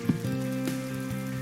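Rain falls in a cutscene from the Ayo the Clown video game, a soft continuous patter mixed with a steady tonal hum and a few faint thuds, quiet and without speech.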